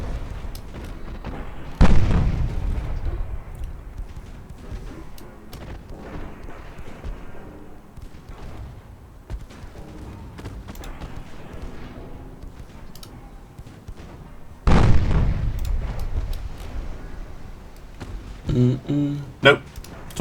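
Naval guns fire in an 1890s French naval campaign video game, giving two loud booming blasts about twelve seconds apart with quieter thuds and game sounds between them. Someone talks over the action.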